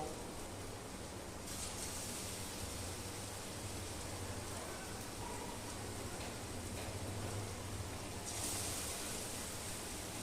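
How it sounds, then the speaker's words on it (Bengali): Elephant foot yam (ol kochu) kofta balls fry in hot oil with a steady, close, dense hiss and sizzle throughout. "এরম করে ভাজবো।"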